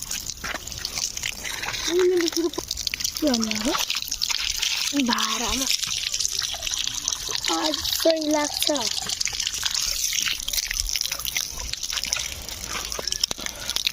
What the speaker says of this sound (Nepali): हात खुट्टा धुई